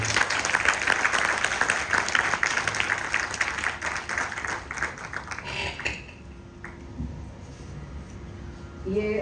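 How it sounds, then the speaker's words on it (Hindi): Loud audience applause with crisp individual claps fades out after about six seconds, leaving a quiet room with faint tones and scattered noises. "इनके लिए एक बार जोरदार ताली।"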